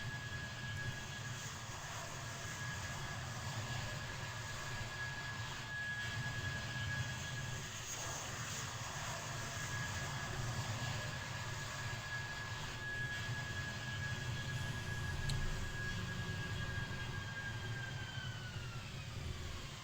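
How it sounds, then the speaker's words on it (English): Airliner in a train simulation game passing overhead as it comes in to land, a faint, steady jet whine and rumble that holds for the whole stretch and slowly drops in pitch. "Just heard a plane coming in."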